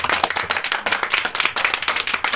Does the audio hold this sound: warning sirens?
no